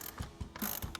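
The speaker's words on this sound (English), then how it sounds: "we can start removing all of these 8mm bolts. We'll grab an 8mm socket" An 8mm socket ratchet backing out bolts on a Ford Bronco intake, four or five quick close clicks in a brief burst.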